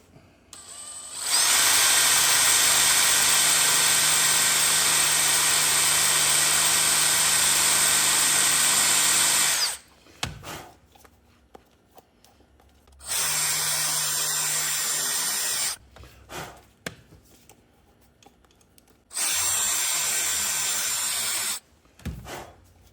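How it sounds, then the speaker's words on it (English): Rotary tool with an abrasive bit grinding down a broken head bolt on an antique car's engine block: one long sustained high whine, then two shorter bursts separated by quiet pauses, close and loud. "I'm going to use this abrasive bit to start off with"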